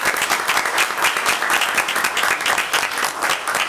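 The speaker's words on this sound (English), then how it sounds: "So let's give them a round of applause." Applause from a crowd at a board of education meeting, dense and sustained, fairly loud and close, continuing evenly for the whole stretch without voices.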